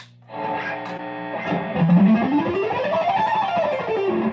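A distorted electric guitar plays a rapid run of picked notes, alternate picking ascending and economy picking descending, loud and up close with no talking.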